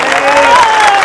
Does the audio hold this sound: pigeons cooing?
no